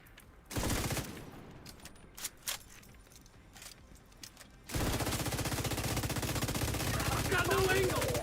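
Rapid video-game gunfire bursts out suddenly and stays loud and sustained, a dense automatic rattle following a quieter stretch of scattered shots and clatter.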